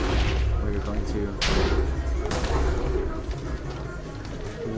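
Minecraft explosions go off in a battle arena during a spell tournament, two sharp bursts in quick succession over a busy, noisy background with voices talking throughout.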